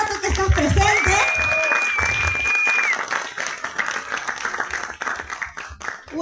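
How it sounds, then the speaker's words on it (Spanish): An audience breaks into loud applause that thins to scattered claps toward the end, with a brief tone and some voices mixed in at the start. "Así que date un fuerte aplauso, por favor, tú que estás presente."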